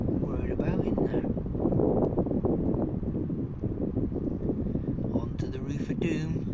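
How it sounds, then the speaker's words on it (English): Gusty wind buffets the microphone outside a woodland shooting hide, a steady broadband rush that swells and eases throughout. "It's quite windy"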